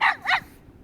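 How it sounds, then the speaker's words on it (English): A dog in the Family Farm Adventure video game gives two quick, sharp barks close up, then falls quiet. "the dog is letting them know that something is happening with the chickens"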